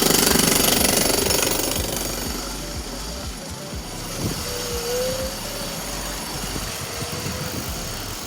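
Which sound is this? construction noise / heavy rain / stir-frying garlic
construction noise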